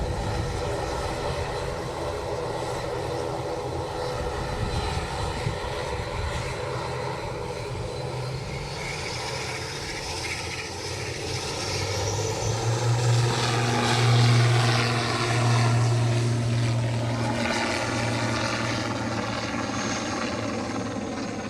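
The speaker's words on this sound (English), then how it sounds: "You'll hear the engine note changes, the prop's pitch changes." A propeller airplane on its takeoff run from Matagorda, the engine droning steadily and then swelling louder as the prop pitch shifts and the tone climbs, with no talk over it.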